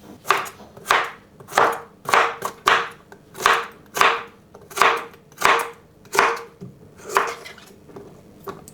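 A knife dices food roughly on a cutting board for a keto chicken traybake, about ten firm chops in a steady, even rhythm, close and loud with no voices.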